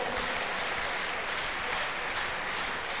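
An audience at a church crusade applauds in a steady, even patter of many hands, held at a constant level across the whole clip.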